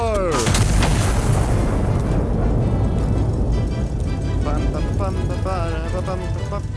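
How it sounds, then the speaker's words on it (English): Loud booming artillery gun fire in the video game Iron Nest, a heavy blast at the start with a long rumbling tail, overlaid by electronic whistles and game effects. "Gun is armed. Fire in 5, 4, 3, 2, fire."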